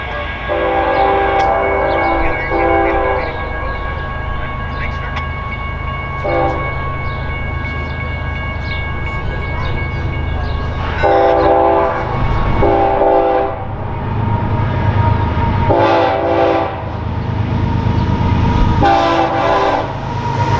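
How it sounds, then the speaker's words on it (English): A heavy BNSF freight stack train rumbles steadily past, rounding a curve westbound in Arizona, while its horn sounds in a series of loud, harmonic blasts, some short, some held. "another stack train is rounding the curve heading west"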